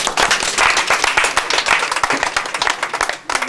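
Applause at an agency opening ceremony for the NGO Bethesda in Savalou: dense, sustained clapping from a crowd, close and loud, dipping briefly near the end.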